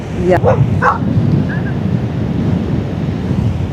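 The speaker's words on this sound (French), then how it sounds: "Il y a un chien, pardon." A couple of quick dog barks near the start, outdoors on a beach with steady wind rumble and surf-like noise continuing afterward.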